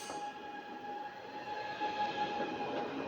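A train rolls past with a steady rumble and a high, whining tone, moderately distant and heard alone.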